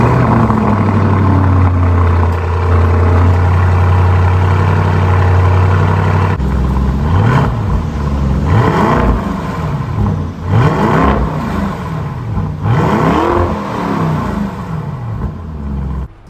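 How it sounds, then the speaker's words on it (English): A 2021 Lamborghini Urus V8 with a full titanium exhaust idles with a deep, steady drone, then is revved repeatedly in sharp rising and falling bursts, loud and close. "this V8 sounds heavenly, trust me. Especially this car is not a standard exhaust, so this car is equipped with a rift, fully titanium exhaust"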